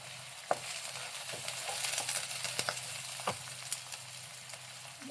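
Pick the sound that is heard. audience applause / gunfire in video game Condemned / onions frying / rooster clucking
onions frying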